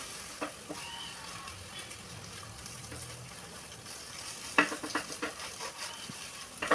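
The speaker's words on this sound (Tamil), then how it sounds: "மூணு முட்டையை கிளறி எடுக்க போகிறேன்" Three eggs are scrambled in a hot pan with a quiet, steady sizzle, while a spatula scrapes and taps in a few sharper strokes toward the end.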